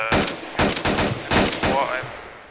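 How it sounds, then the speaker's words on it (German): Loud automatic gunfire in the video game ArmA 2, three distinct rapid bursts separated by short gaps, close and sharp, with a faint voice underneath. "Christoph, darf ich schießen?"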